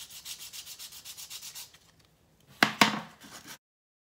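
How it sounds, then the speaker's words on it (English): Hand sanding the top of a bangle keychain with rhythmic scratchy strokes, about a dozen even rubs, then a pause and a couple of louder scrapes or knocks nearby. "So what I do is put my dust mask on. And then I sand"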